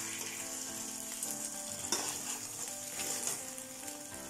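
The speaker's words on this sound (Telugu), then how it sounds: "సెకండ్ సైడ్ పెట్టి ఇలా ఫ్రై చేసుకోవాలి" An egg sheet fries on its second side in a pan, with a steady sizzle and brief scrapes of stirring or flipping, followed by a louder crackle near the middle.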